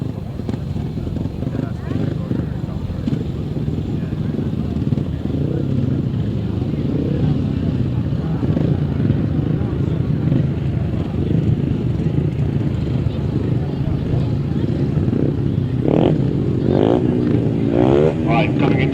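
Solo speedway motorcycles roll out for a race start at a speedway meeting, a steady engine drone running throughout beneath continuous commentary, with a few louder revving bursts near the end.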